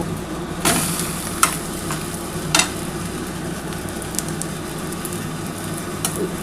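Continuous sizzling of an omelette frying in a pan, with a few sharp scraping taps of a utensil against it. No one speaks.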